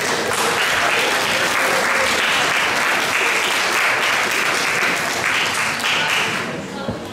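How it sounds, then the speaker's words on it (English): Sustained applause rings out in a school hall at a junior prizegiving, a dense, loud round of clapping from the audience that carries on evenly before starting to fade at the very end. "we should have a final round of applause for all of our service award winners"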